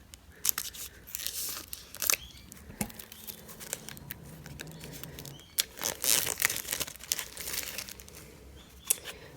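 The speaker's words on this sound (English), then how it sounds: "got a little more cellophane here to unwrap" Crinkly cellophane wrapping being peeled off a Wizard's Tarot card box, close up, in a run of irregular crackling and crumpling bursts with sharp rustles, no voices.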